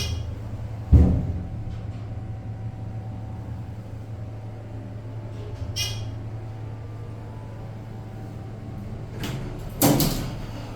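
Doors of a ThyssenDover Impulse hydraulic elevator in a Best Western Plus hotel clunk and slide, with a sharp thud near the start, a softer one midway and another near the end over a low steady hum.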